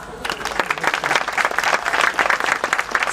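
Crowd applause and cheering at a yosakoi dance performance at a shrine festival, lively clapping that swells in uneven waves with shouting voices mixed in, loud and close.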